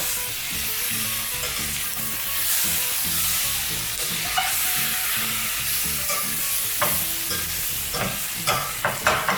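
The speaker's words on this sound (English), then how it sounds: "we just kind of keep scraping up some of the brown bits as we can to distribute onto the onions" Onions fry in a hot pan with a steady sizzle while a utensil repeatedly scrapes up the browned bits, the scraping growing sharper and more frequent toward the end. No voices.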